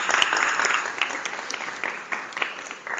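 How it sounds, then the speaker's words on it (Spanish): An auditorium audience at a Spanish-language medical-legal lecture claps steadily throughout, a dense, continuous patter of many hands with a few sharper individual claps, fairly near and sustained for the whole stretch. "yo pienso que merece un aplauso el auditorio"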